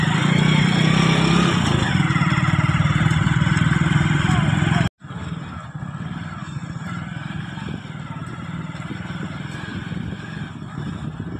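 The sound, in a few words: motorcycle starting and riding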